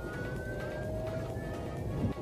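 Inside a moving BlueSG electric car, the motor gives a faint, steady high whine that slowly shifts in pitch over a low rumble of road noise, with no talking.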